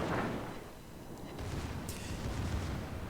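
Heavy battleship guns boom in a World of Warships naval battle, a dense rumbling barrage of shell fire that stays loud throughout with no clear gaps between shots.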